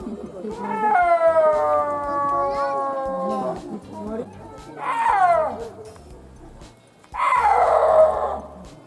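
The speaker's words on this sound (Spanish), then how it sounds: "emitir una gran variedad de sonidos, incluidos silbidos, gruñidos, maullidos y otros ruidos para comunicarse" A snow leopard lets out a long drawn meow, then a shorter growling yowl, and finally a harsh hiss, each loud and close with pauses between.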